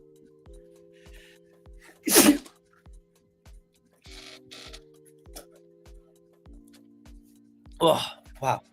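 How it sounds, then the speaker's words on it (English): One sharp, loud sneeze bursts out close to the microphone, followed later by a second sneezy burst, over a quiet background of regular soft ticking clicks. "That was a nasty sneeze."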